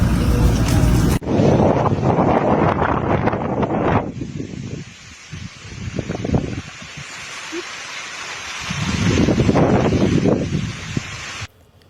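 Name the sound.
strong wind blowing outdoors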